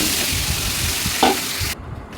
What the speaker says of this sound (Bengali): আর দিয়ে দিচ্ছি তিনটা শুকনা মরিচ দুইটা তেজপাতা দিয়ে এবার এইটাকে একটু ফোড়নের অপেক্ষা